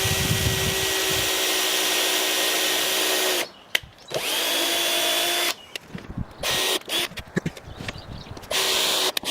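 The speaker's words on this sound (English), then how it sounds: "I still need to drill a hole for the screws" A power drill whines steadily at close range, then cuts off and restarts in several short bursts as it bores screw holes through wood for an RC car ramp.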